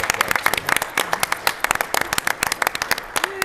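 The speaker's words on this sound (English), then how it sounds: "I want to give Mark a round of applause." A room at a city council meeting breaks into applause for a departing council member, with many sharp claps overlapping in a dense, steady patter for several seconds.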